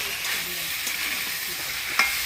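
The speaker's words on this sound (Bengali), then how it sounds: "আলু ফুলকপিটা মশলা দিয়ে ভালো করে কষা নিলাম" Fried potato and cauliflower stirred in a spice paste of chili paste, turmeric and salt, sizzling steadily close by for a Bengali fish curry, with a soft clink near the end.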